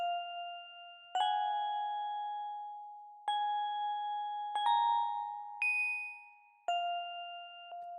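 A bright synth bell in FL Studio 20 plays a slow melody of sustained, ringing notes, each struck cleanly and left to fade before the next.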